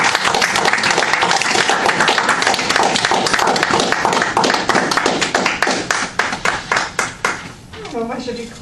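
A live audience applauds loudly and steadily for most of the stretch, the dense clapping thinning into a few scattered claps near the end as a voice starts speaking.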